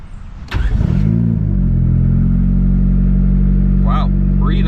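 A built single-cam engine with new injectors cranks briefly and fires, then settles into a loud, steady, throbbing idle. Voices talk over it toward the end.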